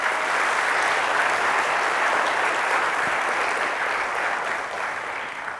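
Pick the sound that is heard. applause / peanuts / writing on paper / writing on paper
applause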